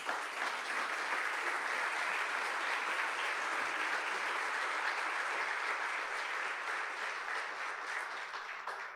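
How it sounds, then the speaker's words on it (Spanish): Church congregation applauding steadily, a dense wash of clapping sustained at even loudness across the whole stretch, with no voices on top. "Dale un aplauso a Dios"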